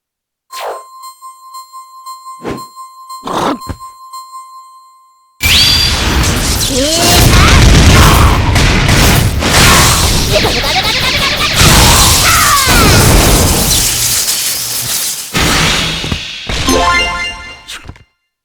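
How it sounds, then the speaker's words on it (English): A Pikachu burst attack in the fighting game Pokkén Tournament: after a few sparse chimes and clanks, a sudden loud blast of crashing, sparkling energy and impacts surges in and holds for about twelve seconds before fading out. "You can use a burst attack once during every Synergy Burst. Try using a burst attack."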